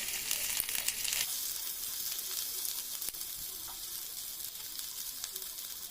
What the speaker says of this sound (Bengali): তেলটা গরম হয়ে গেছে, এবার কালো জিরা দিয়ে দেবো। সঙ্গে পেঁয়াজ কুচি,